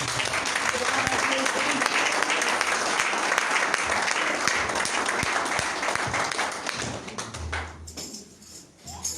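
A church congregation claps loudly and continuously through a worship service, dense rhythmic applause that thins out near the end, with voices mixed in.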